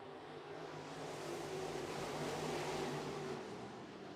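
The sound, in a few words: race cars starting a dirt track heat race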